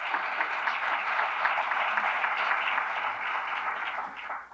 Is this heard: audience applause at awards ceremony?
yes